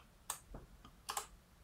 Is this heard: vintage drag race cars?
no